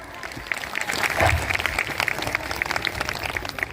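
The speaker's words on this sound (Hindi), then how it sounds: "साथ के सामने आप ये भी जोरदार तालियां हो जाए।" A crowd at a Bahujan unity conference rally applauds, steady clapping that swells briefly before continuing, with some voices mixed in behind it.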